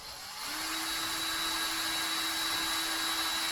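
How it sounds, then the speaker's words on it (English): A steady high-pitched whine of a power drill drilling out a part of a rake assembly runs continuously after spinning up in the first half second. "So we first drill it out,"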